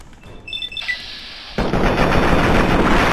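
AK rifle fire in Fallout 3 erupts after a few high electronic beeps and tones, a loud, dense burst of rapid gunshots that continues to the end, no talking.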